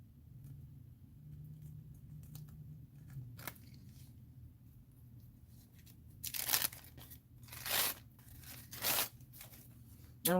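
A paper napkin cut apart with scissors for decoupage, a few crisp snips and rustling crinkles of thin paper, close and fairly quiet after a near-silent stretch.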